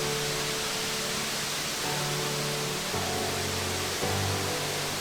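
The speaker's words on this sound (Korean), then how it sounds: "코스타리카에서 제일 큰 폭포 디아만테가 기다리고 있기 때문이다." Diamante waterfall in Costa Rica, the country's largest, heard as a constant broadband roar of falling water with no breaks, loud and steady throughout.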